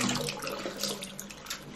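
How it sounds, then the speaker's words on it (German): Water runs steadily from a household tap into a sink to wet baby wipes, a continuous broadband splashing hiss at moderate level with no speech. "Da muss ich hier nicht immer so lange das Wasser laufen lassen für ihr Popotücher."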